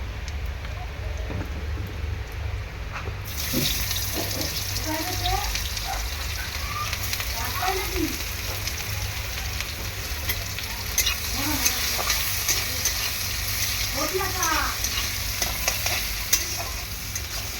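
Whole-spice tempering frying in hot oil in a pan for a snakehead fish curry, a close, continuous crackling sizzle that grows louder after the first few seconds, with stirring scrapes and a voice talking underneath.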